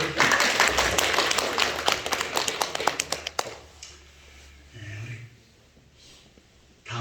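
A church congregation applauds, with loud, close clapping for a few seconds that stops abruptly, followed by quiet room noise and a brief low murmur.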